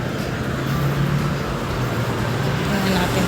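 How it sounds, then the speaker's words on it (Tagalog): Continuous rumbling highway traffic passes near a shopping plaza in Florida, a steady loud drone of cars and buses with no breaks. "Highway na siya. Yan ang ma-traffic."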